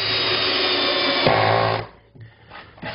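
Bosch power drill driving screws to fix a heavy wooden nest box onto a chicken coop, a loud steady whine that winds down after nearly two seconds, followed by quieter knocks and rustling.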